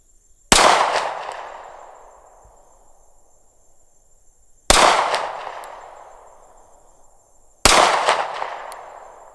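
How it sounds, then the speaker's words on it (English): Three sharp, loud pistol shots from a Sig P365XL fitted with an Icarus Precision grip module are fired at a 100-yard target. Each crack is spaced a few seconds apart and rings out into a long decaying tail. "Shot those a little quick, but felt like I was on."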